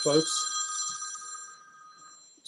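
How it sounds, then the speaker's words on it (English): A mobile phone ringer trills in a repeated electronic ring for about two seconds during a live record sale, loud and close, with a brief spoken word at the start. "That was my phone ringer."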